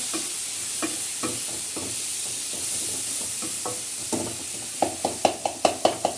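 Tomatoes and green chillies frying in a pan, a constant bright sizzle with a spatula scraping and stirring, ending in a quick run of sharp rhythmic taps, no talking.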